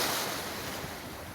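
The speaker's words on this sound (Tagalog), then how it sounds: "Dagat na ni siya guys." Sea waves washing continuously along the shore near Jeddah, a steady broadband roar with wind rushing across the microphone and no voices.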